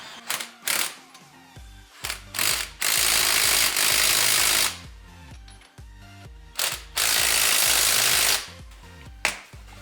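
Socket wrench with a 21 mm deep well socket tightening lug nuts on an Exocet build, loud rapid ratcheting bursts alternating with short clicks and pauses, no speech.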